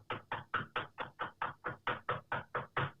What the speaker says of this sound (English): I'm knocking on wood too.